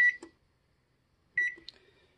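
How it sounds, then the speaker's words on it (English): An oven timer beeps while butternut squash roasts at 400 degrees: two short, bright electronic beeps about a second and a half apart, close and clear, with near silence between them. "When the timer goes off,"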